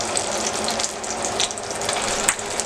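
A beef steak sears in a hot pan with a steady, close crackling sizzle marked by bright little pops and spits throughout.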